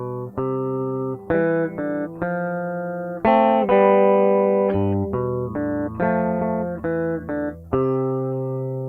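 Electric guitar picked slowly through the closing riff of the La Bamba introduction, with clear single notes and short chordal hits in a steady, deliberate rhythm, played alone and close.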